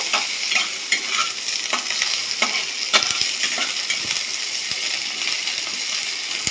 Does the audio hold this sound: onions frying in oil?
yes